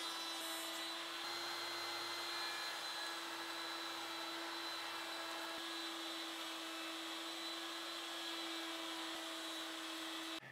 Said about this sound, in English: I'm going to use a rabbiting bit at the router table, and I'm going to make a rabbet all the way around the back side of the panel